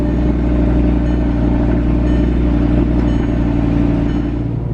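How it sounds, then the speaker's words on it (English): An Audi V10 engine idles steadily with a deep, even rumble throughout, loud and close, with no talking over it. "V10 sounds so good."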